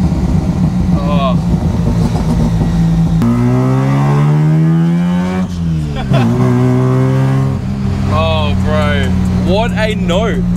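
Mazda 1300 with a 13B bridgeport rotary engine revving hard, loud buzzing note sweeping up and down through several throttle blips, close and dominant, with voices talking over it.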